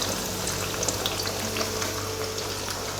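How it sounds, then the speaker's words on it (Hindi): Fish fries in hot oil, giving a steady, dense crackling sizzle that holds at an even level throughout, close and continuous with no talking. "फ़िश जो है उसके फ्राई करने का जो मामला है वो शुरू हो चुका है।"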